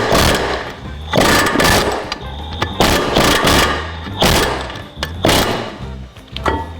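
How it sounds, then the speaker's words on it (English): Loud bursts of rapid pneumatic impact hammering echo in a shop as parts are popped off a front upper control arm clamped in a vise, several stuttering bursts separated by short pauses. "now we got to go over in a vise and pop these the rest of the way off"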